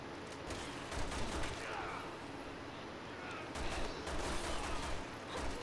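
Rapid bursts of gunfire in the Resident Evil 6 video game, dense and continuous volleys of shots throughout with game sound effects and faint voices mixed in.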